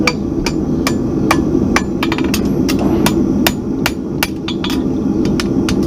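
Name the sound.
farrier hammering horseshoe clips on anvil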